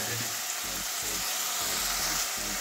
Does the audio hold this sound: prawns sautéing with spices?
yes